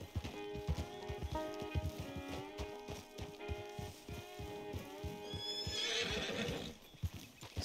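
A horse whinnies over steady clip-clopping hooves in the game Red Dead Redemption 2, close and clear, with no talking.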